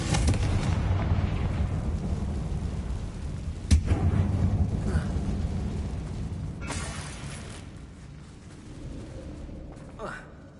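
A Confringo spell explodes in Hogwarts Legacy with a single sharp blast that fades into a low rumble over busy game ambience.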